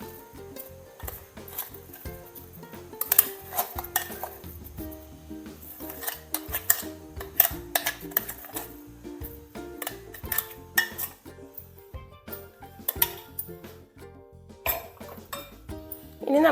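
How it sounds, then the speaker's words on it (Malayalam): Crushed parippu lentils tipped into a bowl in a Kerala kitchen, with clinks and scrapes of dishes and utensils scattered through the clip, moderately close with some dull knocks. "ഇതിനി നമുക്ക് ഈ ബൗളിലേക്ക് ഇട്ട് കൊടുക്കാം."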